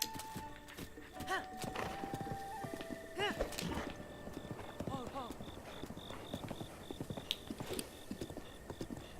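A horse in The Legend of Zelda: Breath of the Wild clip-clops along in a brisk galloping rhythm of hoofbeats, with a short whinny early on, game chimes, and someone talking over the top.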